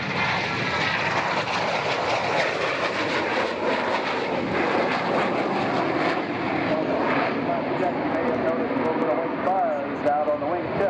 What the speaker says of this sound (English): here's a low, high-speed pass, a low approach by the F-117